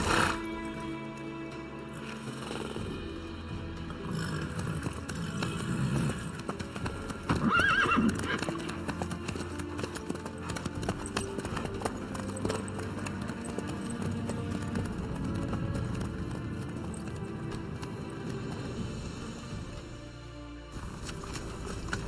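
Horse hooves clip-clopping in The Witcher 3, played in VR with a first-person mod: a close, steady rhythmic trot with a neigh around the middle, mixed with game ambience and brief voices.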